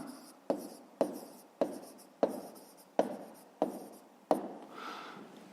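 Pen writing numbers by hand for a school math exercise, a run of about eight sharp, close taps and scratches at a steady pace, ending in a softer rubbing stroke.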